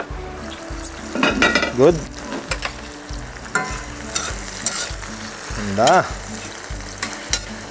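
Tomatoes sautéing in a pan for ginisang upo with ground pork and shrimp, a loud close sizzle with repeated scraping strokes of a utensil, while a voice speaks briefly.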